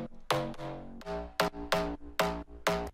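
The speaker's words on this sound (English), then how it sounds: "Now the first sound here is a bass shot from our sample pack" Slap house bass shot sample playing a short melody with varied note lengths, six punchy plucked hits with bright attacks and quick decays in a bouncy rhythm, alone.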